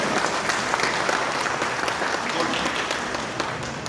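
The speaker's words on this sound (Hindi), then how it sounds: "जोरदार ताली बजा के स्वागत कर सकते हो" A crowd at a government anniversary event for Raja Ram Mohan Roy applauds to welcome a speaker, steady dense clapping from many hands throughout with faint voices underneath.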